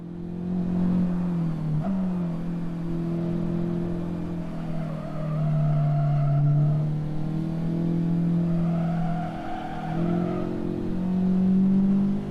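Honda car on a race track, a steady engine drone with tire squeal rising and falling as it slides, heard continuously at moderate distance.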